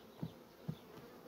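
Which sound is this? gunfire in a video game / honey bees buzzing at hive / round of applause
honey bees buzzing at hive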